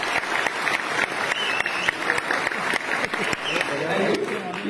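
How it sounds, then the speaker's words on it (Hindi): An audience applauding at a product launch event for an anti-hacking app, sustained dense clapping throughout with a voice speaking over it. "ताली बजाना है तो प्रॉपरली सब लोग ताली बजाओ।"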